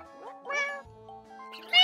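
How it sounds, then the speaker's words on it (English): Yoshi in the Mario Party Superstars video game lets out a cat-like meow, a few quick rising cries close and clear, ending on a louder high squeal. "Why does Yoshi sound like a cat in this one?"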